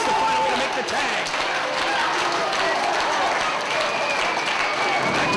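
Wrestling crowd at an FIP event applauding and cheering in an arena, a dense steady wash of clapping and shouts that fills the whole few seconds, with commentary voices running beneath it.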